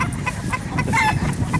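Several chickens cluck close by on a farm in Alabama, a busy overlapping chatter of short calls with no pauses over a low background rumble.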